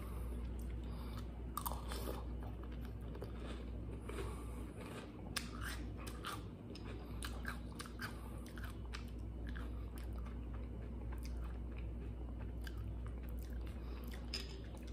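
Steady crunchy chewing of Magic Spoon chocolate cereal close to the mic, with repeated crisp bites and crackles over a low constant hum.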